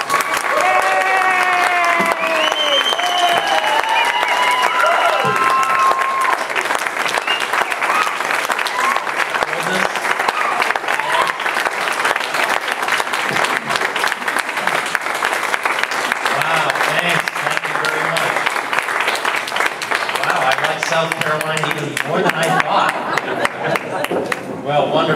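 An audience applauds Dr. Thomas Woods as he is welcomed to give a Constitution Day speech in South Carolina. The clapping is loud and sustained for about 25 seconds, with some voices and cheers mixed in near the start.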